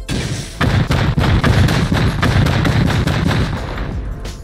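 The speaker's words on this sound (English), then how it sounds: "Gotta be quick, 16 rockets" A salvo of rockets launched in Rust, a loud string of heavy thumping blasts fired in quick succession, close, sustained and with no talking.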